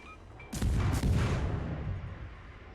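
Naval gunfire in World of Warships lands as two heavy booming salvos in quick succession, loud and close, followed by a long rumbling decay.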